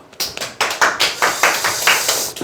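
A short burst of hand clapping from a small group in a lecture setting, made of quick, sharp, uneven claps that start abruptly and fade out within a couple of seconds, with no voices.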